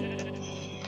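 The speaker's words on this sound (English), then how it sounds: "These sheep are actually rainbow." A sheep in the Minecraft video game gives one short, clear bleat that runs the full length of a brief moment, loud and alone with no talk.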